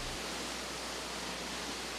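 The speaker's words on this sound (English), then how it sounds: "Entrance Cascade, the first waterfall, plunges sideways beneath the stone masonry of Sentry Bridge." Entrance Cascade, a waterfall in the Watkins Glen gorge plunging beneath the stone Sentry Bridge, gives a steady, dense broadband roar of falling water with no pauses and no voices.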